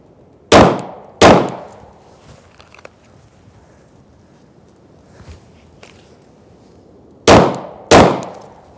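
Four loud, sharp pistol shots during a dot torture range drill, fired as two quick pairs separated by several seconds of quiet, close and crisp with no talking.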